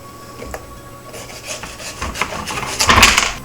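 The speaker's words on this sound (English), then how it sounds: "we're going to scrape off the remaining fiber off the pumpkin using the large spoon" A large spoon scrapes stringy fibers from the inside of a pumpkin in uneven, rasping strokes that grow louder and denser toward the end, close up with no talking.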